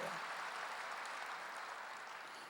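A church congregation applauds during a Wednesday worship service, a faint, steady wash of clapping that holds evenly for a couple of seconds and slowly thins toward the end.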